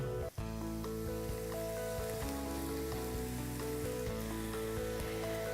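Minced bacon, ground beef and pork brown in a hot pan for a Bolognese sauce, giving a steady, close, even sizzle with a faint stir near the start, and no talking.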